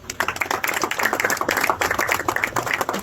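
A school audience claps steadily for the first-place winner of a 200-meter flat race, with dense, continuous applause from many hands, fairly loud and close, and no talking.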